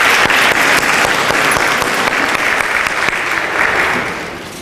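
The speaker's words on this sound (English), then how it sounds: "Let's give our speaker another round of applause." Sustained applause from an audience for a speaker at a morning school program, dense and steady throughout before tapering off slightly at the end, with no talking over it.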